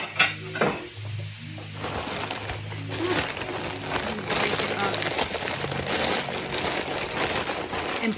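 Mixed vegetables, including corn and peas, go into a pan with frying meat, giving a soft steady sizzle with occasional utensil scrapes and clinks while a person talks throughout.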